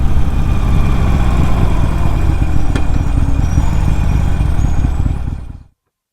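A 2018 Harley-Davidson Sportster 1200 Roadster idles close up with a loud, steady, low-pitched rumble that holds constant for about five seconds, then cuts off abruptly into silence.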